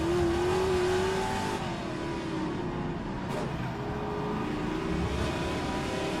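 Classic Trans-Am race cars at Adelaide, a continuous loud engine roar with a rising whine and shifting revs as the cars pass nearby.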